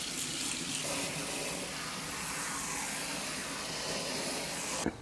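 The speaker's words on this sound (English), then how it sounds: "drain our rice. With the water, get the excess salt and starch out of it." Rice being rinsed under a running kitchen tap for Persian whole chicken with rice, a steady close hiss of flowing water splashing into a pot, with a brief clatter near the end and no talk.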